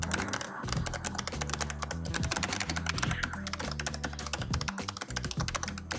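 Rapid, steady typing on a Bloody gaming keyboard, dense clacking keystrokes up close with no talking, over faint background music.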